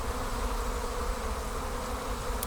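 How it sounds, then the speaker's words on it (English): A swarming honey bee colony leaves its hive ahead of bad weather, making a dense continuous buzz of many bees that holds steady throughout with no voices. "these bees are leaving at a bad time"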